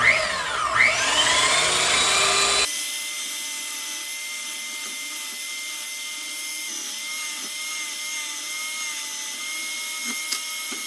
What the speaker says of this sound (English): picked this up right here, this little belt sander